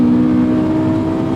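Honda S2000 AP2 with the F22C engine, drive-by-wire throttle, revving briefly while rev matching, a loud, close, steady engine hum with strong tonal bands and no speech.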